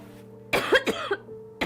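A woman with acute pneumonia coughs in a close burst of three or four harsh, strained coughs, followed by a short gap and the start of another cough.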